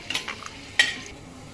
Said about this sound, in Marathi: 1 चमचा तेल घेतले, 1 चमचा शेंगदाणे घेतले, ते चांगले खरपूस आपण भाजून घ्यायचं तेलात